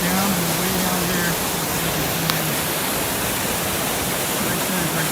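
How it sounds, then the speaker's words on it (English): A waterfall roars at the end of a hike through deep snow, a steady broadband rush of falling water heard at a distance, with a voice briefly murmuring over it. "There's that waterfall."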